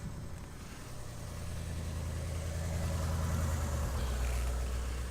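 A 1963 Lincoln Continental's engine idles steadily with a deep, even rumble that settles slightly lower and smoother partway through, heard close and alone.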